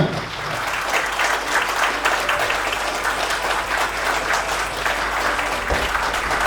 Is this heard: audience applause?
yes